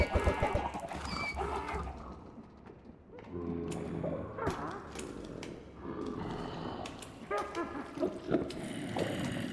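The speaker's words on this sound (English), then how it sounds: "Chicken!" Minecraft chickens cluck in short bursts through a busy game soundscape, repeated clucks scattered across the stretch at moderate level among other game noises.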